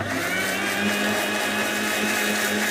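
A blender whirs continuously and loudly, mixing homemade mayonnaise with sunflower oil, a steady close motor drone with no breaks or talk.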